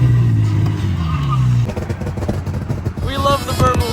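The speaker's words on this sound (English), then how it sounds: "We love the burbles." A Nissan G37 fitted with a Megan Racing exhaust: a loud, close engine drone, then choppy, uneven burbling and crackling pops from the exhaust as the revs fall off.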